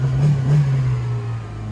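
A car engine revving briefly after a smooth start, a close, loud low rumble that swells and eases over a second or two with no talking.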